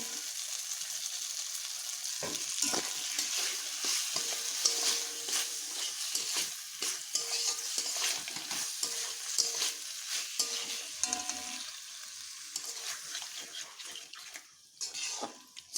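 Paneer with soy and tomato sauce and a splash of water is stir-fried in a pan, with a continuous wet sizzle broken by repeated scraping and stirring strokes of a spatula at close range.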